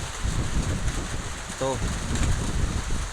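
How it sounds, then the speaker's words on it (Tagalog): Strong typhoon wind roars steadily with dense, rumbling gusts and rain-like noise buffeting the microphone. Someone speaks briefly over it. "Delikado mga kababayan kasi malakas yung hangin ngayon."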